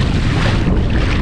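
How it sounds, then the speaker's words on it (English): Strong wind gusting across a microphone while paddling on open water, a loud, continuous low rumble and roar with no breaks and no voices. "there's still some pretty good gusts coming through"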